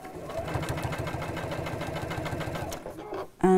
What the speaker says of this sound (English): we're just going to sew straight down the centre